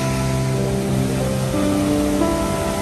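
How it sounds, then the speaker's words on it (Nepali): Floodwater from the Nakhu river rushing along a mud-covered road after a flood and landslide, a loud steady broadband roar close by with no talk over it. "अनि बाटोभरि खोला बगिरहेछ।"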